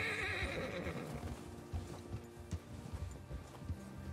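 Horse in Red Dead Redemption 2 lets out a loud, close neigh, followed by steady clip-clop hoofbeats of galloping over a bed of game ambience.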